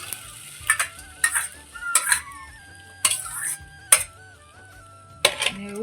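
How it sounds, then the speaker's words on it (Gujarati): Boiled urad dal going into a hot pan, with a few bursts of sizzling and the clatter of a spoon and utensils at intervals over a quiet background. "હવે એમાં નાખવાની છે દાળ. બાફેલી દાળ છે એમાં નાખી દેવાની છે."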